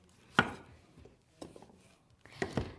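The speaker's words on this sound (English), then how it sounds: "Next, we're gonna go with the yellow squash. Just take off the ends." A knife chops through the ends of a yellow squash on a cutting board, with a few sharp, close knocks separated by short pauses.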